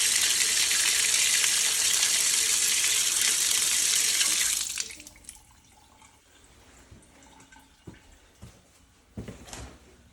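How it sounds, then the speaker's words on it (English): Water gushes steadily from an outdoor spigot for about five seconds, then shuts off, leaving scattered drips and small knocks close by. "So we'll turn on the water spigot and get a fresh water sample."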